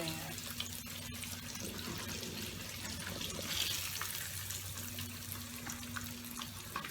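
Pieces of liver frying in hot grease in a pan for Southern smothered liver and onions, a steady broadband sizzle with crackling running throughout at moderate level, alone with no talk.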